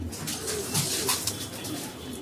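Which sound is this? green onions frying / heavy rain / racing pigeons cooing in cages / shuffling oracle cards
racing pigeons cooing in cages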